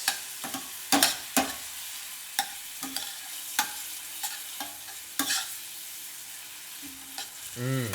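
Carrots and other ingredients for an Okinawan Blue Zone dish are tossed and stirred in a frying pan, with a soft sizzle under sharp scraping clacks of the utensil that come at irregular intervals, close and without speech.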